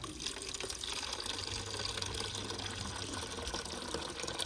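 Water is poured into a container for pigeons on a rooftop, a soft, continuous splashing trickle that stays faint and steady throughout.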